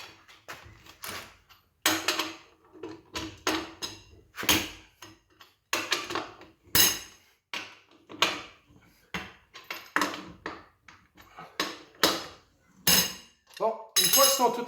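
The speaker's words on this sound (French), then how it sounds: "il faut retirer les noix. Les noix de roue." Wheel lug nuts come off a car with drum brakes, heard as a series of close metallic clanks, clicks and knocks in irregular bursts, with faint bits of voice between them.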